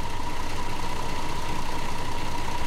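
A MAN Lion's Coach bus engine in the Fernbus Coach Simulator game drones at idle, a loud, continuous low rumble with a faint pulsing throb and a steady hum layered over it.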